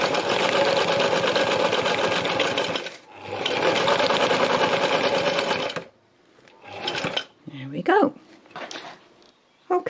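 Sewing machine stitching sea-themed fabric runs in two long steady bursts with a brief pause between, then stops; a dog whimpers and barks faintly afterward.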